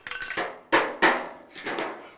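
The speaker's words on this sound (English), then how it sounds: "I'm going to hammer just a little more on that, on the weld" A hammer strikes the weld on a 1956 Chevy fender in body work, about five sharp metallic blows in an uneven rhythm, each ringing briefly, close and without talk.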